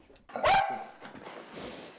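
A police border-service detection dog, searching a train carriage for drugs, gives one loud close bark to signal a find, followed by quieter low rustling and faint background sounds.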